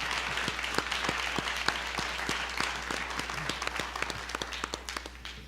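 Audience in a college auditorium applauds the candidates at a 2021 Sorel-Tracy municipal election debate, a steady patter of many hands clapping at moderate loudness over a low steady hum, with no talk.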